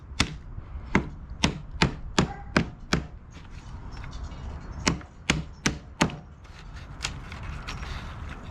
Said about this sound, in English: Then we can take our hammer, knock out all these chips.